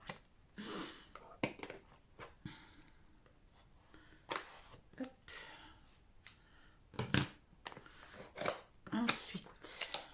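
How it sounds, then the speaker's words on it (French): Scissors snip in a series of short, sharp, close cuts, spaced irregularly, while someone talks nearby between them. "il faut que je reprenne les ciseaux."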